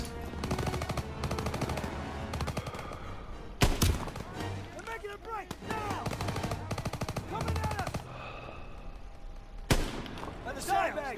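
Gunshots in the Call of Duty WWII video game, with sustained machine-gun rattle running through most of the clip, a few heavier single booming shots standing out, and battle noise underneath.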